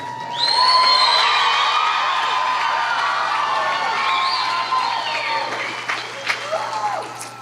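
Loud audience applause and cheering at a school event, rising sharply and holding steady with whoops and shouts, then thinning out toward the end as scattered claps and voices remain.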